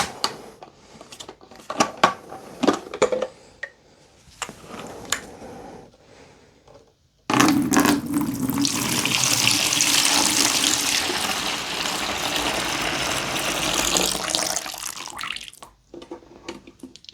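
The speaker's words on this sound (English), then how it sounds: "Let me empty it in this bucket to see how dirty that water is." Dirty water from a carpet cleaner's tank pours and splashes steadily into a bucket for several seconds, loud and close, after some quieter handling noises.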